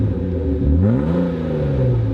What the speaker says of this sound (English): this one has had exhaust modifications, so it makes a nice sound